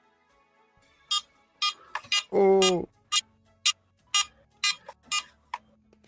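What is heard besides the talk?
Tiger Electronics handheld Pokémon game beeping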